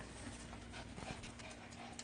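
Pomeranian dogs panting after rain in Florida, a soft rapid breathing rhythm that is faint and close with no talk.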